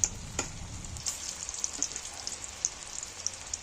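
Pieces of mashed raw jackfruit are dropped one at a time into hot oil, giving a few soft plops under a faint, crackling sizzle, quiet and close, without speech.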